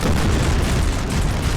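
Cannons fire during a battle in the video game Napoleon: Total War, making a loud, continuous roar of blasts and rumbling booms that fills the whole stretch without a break, with no voices.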